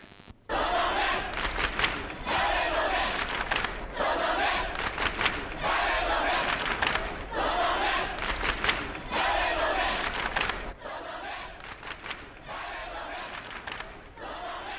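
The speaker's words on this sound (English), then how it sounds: "The entirety of the Dokuns who had gathered in Scramble Crossing had all begun chanting in unison." A large crowd gathered at Scramble Crossing in the video game Chaos;Head Noah chants in unison. The loud, rhythmic bursts repeat steadily, like fans cheering in bleachers, with no talking.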